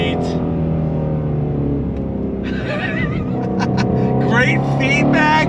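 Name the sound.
Shelby GT350R V8 engine revving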